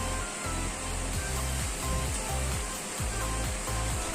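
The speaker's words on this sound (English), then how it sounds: "Now I'm going to wash my mushrooms." Mushrooms being washed under running kitchen water, a steady loud hissing rush with a low churning rumble underneath, close and continuous, with no talking.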